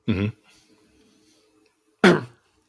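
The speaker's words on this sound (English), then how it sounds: "sorry, I just coughed" Two short, sharp coughs, about two seconds apart, close and loud against near silence.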